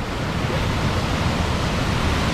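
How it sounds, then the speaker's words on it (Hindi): Water rushes fast and hard down Ranidhara waterfall in Kawardha, a dense, unbroken roar that fills the whole clip at close range. "ये देखो कितना तेज पानी गिर रहा है यार"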